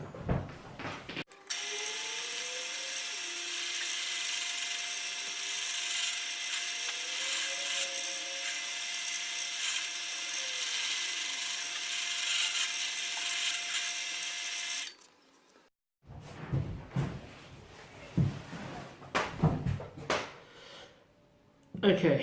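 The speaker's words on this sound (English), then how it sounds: "get the holes drilled in the bottom of the sculpture" A power drill bores holes into the bottom of a small cast sculpture in a workshop, giving a steady, loud whirring whine for about fourteen seconds before it stops. Clattering and handling noises follow.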